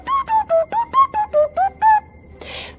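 Voices imitate the R2-D2 droid from Star Wars with a string of nine quick, warbling whistled beeps rising and falling in pitch, followed by a brief breathy hiss.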